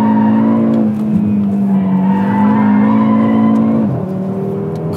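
A 2017 Audi RS3 sedan drifting with a loud engine roar and continuous tire squeal, close and sustained, with a brief dip in revs partway through before it pulls again.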